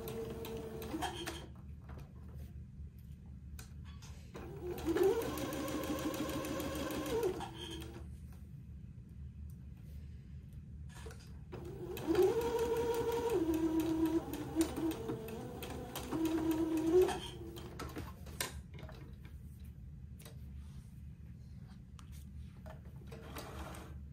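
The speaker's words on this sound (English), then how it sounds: "So let me sew, and I'll take my pins out as I come to them." A sewing machine sews a straight stitch with purple thread. It runs in two fairly quiet bursts of a few seconds each, separated by pauses with soft handling noises.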